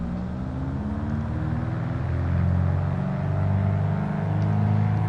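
Twin engines of a Piper Seminole PA44-180 at takeoff power in Flight Simulator 2020 give a steady, loud, low droning rumble with layered harmonic tones, building slightly midway and holding without speech.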